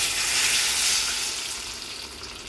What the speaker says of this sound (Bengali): ফোড়ন ভাজা হয়ে গেছে দেখুন চড়বড় করে শব্দ হচ্ছে আমি তেঁতুলের কাঠটা দিয়ে দিচ্ছি